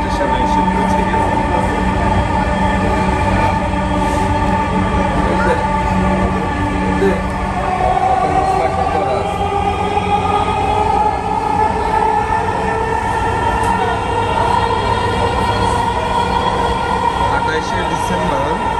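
Metro rail train at Pallabi station in Dhaka, a steady loud rumble of rolling cars with sustained tonal whine and wheel hum throughout, fairly close, with faint voices in the background.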